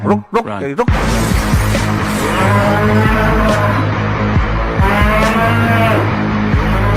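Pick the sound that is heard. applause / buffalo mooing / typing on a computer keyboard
buffalo mooing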